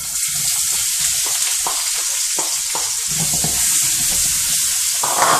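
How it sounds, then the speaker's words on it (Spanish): Onion fries in a pan, the first step toward Mexican-style chicken gizzards, giving a continuous hissing sizzle with occasional stirring scrapes and pops, close and steady, no talking. "Vamos a freír bien la cebolla."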